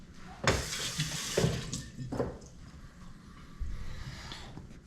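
Tap water splashes over hands while sticky white bread dough is washed off, coming in several short gushing bursts close by at a fairly quiet level.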